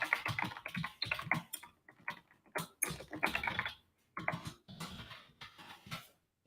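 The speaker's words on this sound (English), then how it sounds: "I know everybody can hear me typing." Rapid computer-keyboard typing during a space podcast livestream: close, uneven bursts of clicking keystrokes with brief pauses between runs, and no talk over it.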